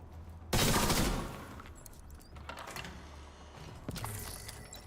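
Burst of gunfire from a shooter game, The Division, with a loud dense volley near the start that fades into scattered, quieter shots and mechanical clatter.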